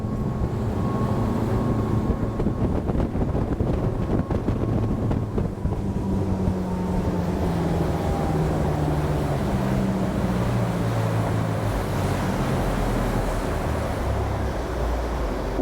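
A Bellini Astor 36 motor boat carves a tight turn at slightly slower speed, its engine a steady low drone under continuous rushing water and wind buffeting the microphone.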